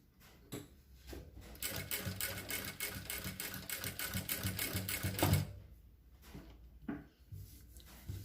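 A sewing machine stitches fabric into the corner of a square neckline. A quiet, fast, continuous mechanical whir runs for several seconds, framed by soft clicks and handling noises before and after.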